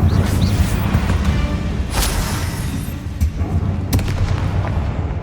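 A Bombarda spell explodes in Hogwarts Legacy inside a tomb: loud booming blasts with sharp bursts near the two- and four-second marks over a rumbling background.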